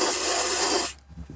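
Fogging oil sprayed from an aerosol can into the cylinders of a 2003 Sea-Doo GTI 717cc engine makes a loud, close, steady hiss lasting just under a second before cutting off sharply into near silence.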